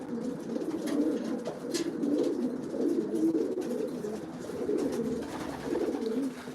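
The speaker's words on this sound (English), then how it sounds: "But just a bunch of lazy pigeons today, I think." Racing pigeons coo steadily in a loft, a continuous soft throaty burbling from many birds overlapping, close and even throughout with no talk.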